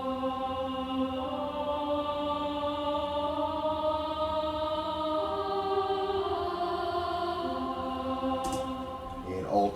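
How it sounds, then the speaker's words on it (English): A synth choir patch with soprano voicing sings sustained, angelic chords that change slowly, clear and steady with no talk over it. "I add the choir just to give that kind of angelic sound that I spoke about earlier, and it's just a soprano voicing"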